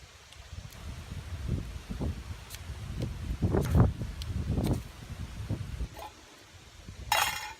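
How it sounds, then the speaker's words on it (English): Gusty wind buffeting outdoors in uneven surges, with rustling and a few light clinks and crunching steps, louder near the middle and end. "Very windy here."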